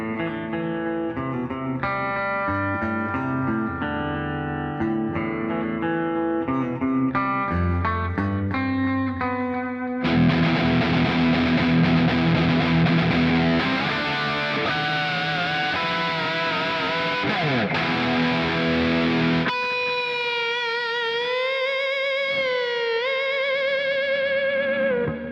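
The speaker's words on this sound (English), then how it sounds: "I'm pretty impressed by all the different tones you can get from this guitar." A Cort X700 Duality II electric guitar runs through effects, playing clean chorus-and-echo phrases before switching to a loud distorted riff, then ending on sustained notes bent with the whammy bar, all with no voices.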